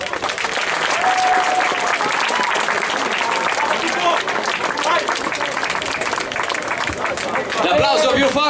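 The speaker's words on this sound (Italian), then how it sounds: "Vorrei cortesemente un applauso." Loud, dense crowd applause fills a boxing event arena, steady and continuous with cheering and chatter mixed in, swelling slightly toward the end.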